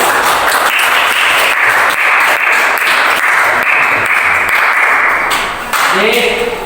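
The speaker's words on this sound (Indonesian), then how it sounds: "Tepuk tangan untuk semuanya." A classroom group claps loudly and steadily for everyone after their group presentations, with a voice speaking near the end.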